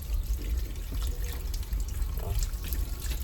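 Fresh shrimp for a seafood boil are rinsed under a running kitchen tap, a close, steady splashing and trickling of water with no speech.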